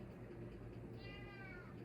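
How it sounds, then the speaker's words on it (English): Hungry pet cats meowing insistently, a drawn-out rising and falling meow standing out in the second half over a steady low background hum, fairly close and alone with no talk. "my cats are yelling at me because they're hungry"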